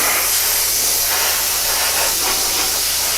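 Steady airbrush or spray-can hiss coats a Revell 1/32 He111 model kit, continuous and close for several seconds with slight pulsing as the spray moves over the parts.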